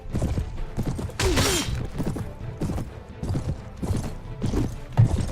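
Horse hooves clip-clopping and galloping in the video game Mount & Blade Warband, a rapid rhythmic drumming mixed with clashing battle impacts and occasional whinnies.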